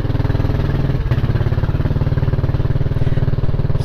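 A Kymco Xciting scooter engine running steadily up close, a loud, even low throb with a rapid pulsing beat and a brief clunk partway through, no voices.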